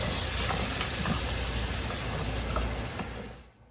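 Minced garlic sizzles steadily in a hot pan, a dense crackling fry with light stirring, fading out at the end.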